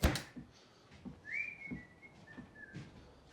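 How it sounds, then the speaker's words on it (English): A person whistles a short, rising then level note, close and fairly soft, over faint rhythmic background thumps. "Whistling."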